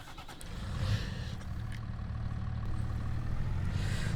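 Tractor engine in Farming Simulator 25 cranking to life, then settling into a low steady rumbling idle that grows slightly fuller, close and fairly quiet with no talk.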